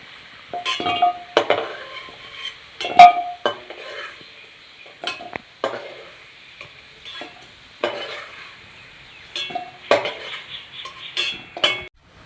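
Fried potatoes being lifted out of a pan with metal utensils, bringing intermittent clattering, scraping and clinking against the pan over a faint sizzle, in short bursts without talk.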